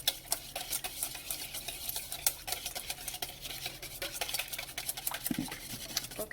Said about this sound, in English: Okay, and whisk this together.